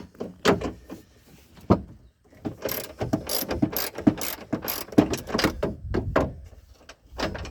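A ratchet wrench loosens bolts on a chuckwagon door frame, giving rapid metallic clicking bursts repeated many times, close and loud, with clanks of tools and hardware in between and no talking.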